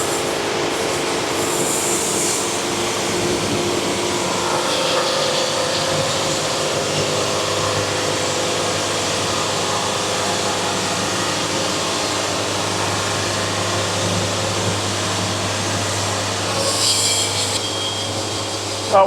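A sawmill quarter sawing a small log, the blade running steadily through the wood as one continuous drone with a low machine hum underneath, no voices.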